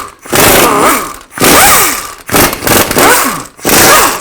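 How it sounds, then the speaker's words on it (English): A 15mm socket on a power tool removes bolts from a 2000-2006 Chevy Tahoe's lower control arm, heard as four loud, close bursts of whirring and rattling with short pauses between them and a pitch that rises and falls. "Now I'm going to use a 15mm socket and take these bolts out."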